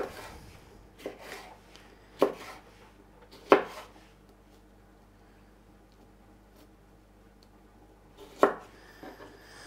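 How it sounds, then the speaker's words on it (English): A knife cuts cheese into little cubes on a board, making a few sparse, sharp taps spaced seconds apart, close by and otherwise quiet. "But this one I'll just cut into little cubes."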